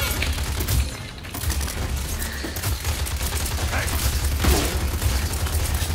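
Rapid gunfire from Skye in the shooter game Paladins, a dense continuous fusillade of shots and mechanical clicks with booms, running loud throughout under busy game effects.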